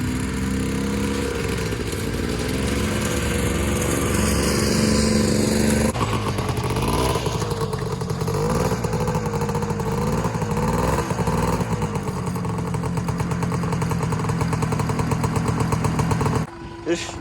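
A log winch's small engine, which has trouble idling, runs nearby with a rough, uneven putter and occasional revving, cutting off abruptly near the end; faint voices at times.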